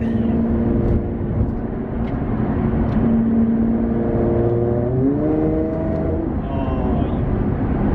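A Nissan GT-R accelerates with a steady engine drone that rises in pitch as it picks up speed, heard from inside the car, continuous and fairly loud with no talking.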